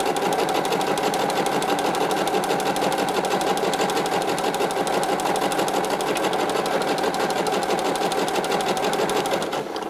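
A sewing machine runs a gathering thread through blouse fabric in one long, even, close burst of rapid stitching, loud and uninterrupted for nearly ten seconds.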